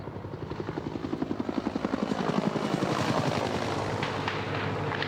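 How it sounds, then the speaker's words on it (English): American Cobra helicopter gunships circling overhead during intense urban fighting in Iraq, a steady rhythmic rotor thump that grows louder and fuller as they pass, with faint distant pops of gunfire beneath. "American Cobra helicopter gunships circle overhead, seeking out Iraqi positions and attacking them."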